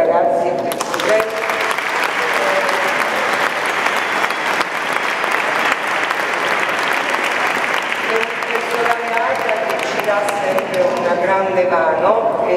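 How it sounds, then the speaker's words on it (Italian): Loud, sustained applause fills a hall at a Christmas concert by an orchestra and choir, a dense continuous roar of many hands clapping. Voices and cheers rise within it near the start and again toward the end. "io chiedo un grandissimo applauso ancora per i ragazzi e per i studenti"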